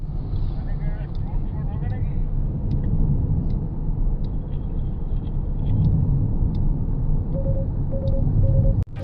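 A Mahindra XUV700 cruises along highway NH 34, heard from inside the cabin as a constant low road and engine rumble with tyre noise, while people talk over it and a few soft chimes sound near the end.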